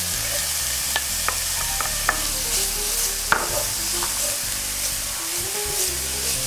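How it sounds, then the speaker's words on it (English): Finely chopped carrots and celery frying in a pan with onions and garlic: a continuous close sizzle with scattered sharp clicks and scrapes of stirring, and no talking. "Now we'll be adding some finely chopped carrots, finely chopped celery"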